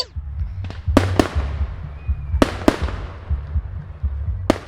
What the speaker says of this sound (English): Daddy Pig is watching the fireworks.